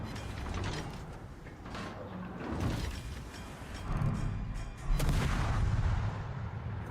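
Warship guns fire in World of Warships, heavy booming salvos and rumbling blasts rolling over a dense mechanical game soundscape, loud throughout with no talking.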